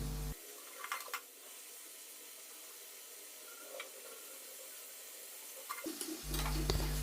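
Food braising in a pan, a quiet steady simmering hiss with occasional soft scraping stirs, louder handling at the start and again near the end.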